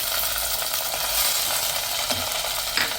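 Ten crushed small onions dropped into sliced onions already browning in hot oil, making a loud, dense, continuous sizzle up close with a couple of brief utensil knocks near the end.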